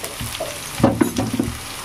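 Tomato with salt and spices frying in oil for a chicken-skin curry, a close sizzle with a few stirring knocks and scrapes in the middle, and nobody talking.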